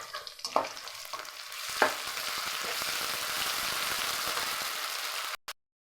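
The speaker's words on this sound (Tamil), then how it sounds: "வெங்காயம் இந்த அளவுக்கு வதங்கினதுமே இஞ்சி பூண்டு பேஸ்ட் போடுறோம்." Onions and ginger-garlic paste fry in hot oil with a steady, dense sizzle, punctuated early on by a few scraping stirs before cutting off abruptly near the end.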